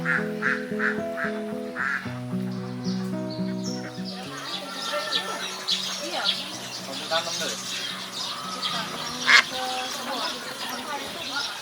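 Ducks on a village laying-duck farm quack loudly and repeatedly, a busy flock chorus with some wing flapping that follows a short tonal musical passage.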